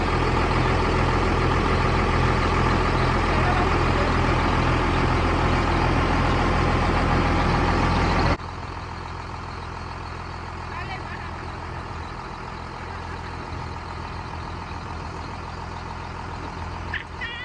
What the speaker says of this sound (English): right now we're unloading the truck